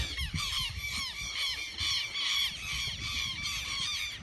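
Dense, continuous cawing and squawking from many birds at once on the Uruguay coast, a loud overlapping chorus with rough low rumbling underneath.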